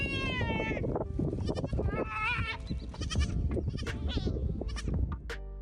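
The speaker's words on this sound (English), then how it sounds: "This goat was stuck in a swamp and was making very funny panic noises." A goat stuck in a swamp bleats repeatedly in panic, loud and close, with wavering, strained cries overlapping one another.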